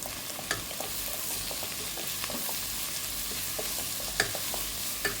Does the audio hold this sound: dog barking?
no